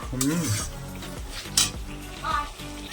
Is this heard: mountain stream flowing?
no